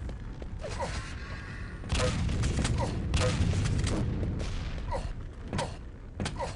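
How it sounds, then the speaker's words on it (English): Rapid gunfire and weapon blasts in the arena shooter Quake 3 Arena, a dense continuous barrage with repeated sharp shots over steady game noise. "Somebody shooting at me?"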